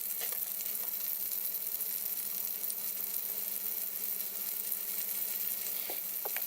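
Wiener schnitzel in breadcrumbs frying in a pan, a quiet, steady hiss and crackle with occasional small pops and no talk over it.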